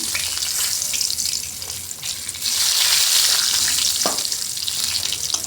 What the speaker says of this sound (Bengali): গরম হয়ে গেছে দিয়ে দেবো তেজপাতা লঙ্কা পাঁচফোড়ন